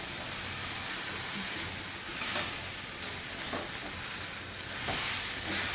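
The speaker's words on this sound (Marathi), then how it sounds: "छान असं परतून घेऊया।" Vada pav potato filling being stirred and sautéed in a pan, a steady soft sizzle with scraping stirs at intervals, close and continuous with no talking.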